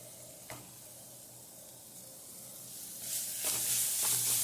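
Crushed onion, ginger and green chilli hitting hot oil, a soft hiss that swells into a louder, brighter sizzle near the end, with a couple of faint clinks and no voices.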